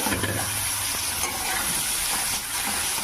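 Boiled potato and carrot going into a pan of reddish-fried onions, giving a steady close sizzle and frying hiss with some stirring scrapes, no talk.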